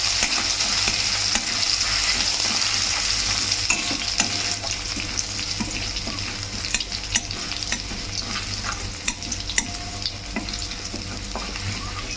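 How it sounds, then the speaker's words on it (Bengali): Curry leaves and grated ginger fry in hot oil with a steady close sizzle, while a spoon stirs through them in repeated scraping strokes across the pan for the whole stretch. "এরপরে কারি পাতা দিচ্ছি, এরপরে গ্রেট করে রাখা আদাটাও দিয়ে দিচ্ছি। তারপরে এটা ভালো করে ভেজে নেব।"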